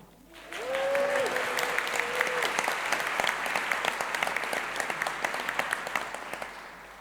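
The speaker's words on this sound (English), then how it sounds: "Let's give a big cheer for that, please." A graduation ceremony crowd breaks into sustained applause and cheering, rising quickly after a brief tone and continuing as a broad, steady wash of clapping from a large audience.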